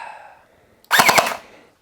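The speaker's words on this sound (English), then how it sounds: "The sound of the blaster firing is interesting." A Nerf Pro Gelfire blaster fires gel rounds indoors in one loud, close burst of rapid shots that lasts about half a second and then fades, after a quiet stretch.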